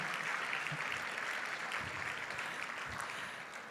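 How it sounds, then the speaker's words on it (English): Sustained, dense audience applause fills a hall at a formal debutante cotillion program, a steady wash of many hands clapping with no talk over it, tapering slightly at the end. "A great big round of applause for them,"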